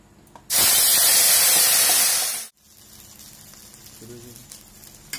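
Grated raw taro (kochu) hitting a hot pan gives a loud, sudden burst of hissing sizzle that lasts about two seconds and then cuts off sharply. A quieter low sizzle and faint kitchen noise follow.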